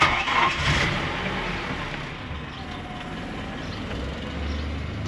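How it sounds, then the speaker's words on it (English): A Nissan Pathfinder 4x4 engine swapped to a KA24 turns over at the start, then settles into a steady, low idle that runs on evenly without anyone speaking. "Good, idling nice and efficiently."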